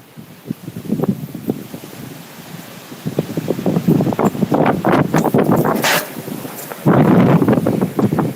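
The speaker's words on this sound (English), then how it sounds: "There's the velocity to this wind." Strong hurricane wind buffets the microphone at Lake Pontchartrain, roaring in surging gusts that build louder toward the end, with water and waves churning underneath.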